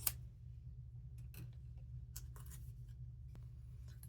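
Scissors snipping through folded paper in a quiet room, a few sharp crisp cuts and rustles scattered over a low steady hum.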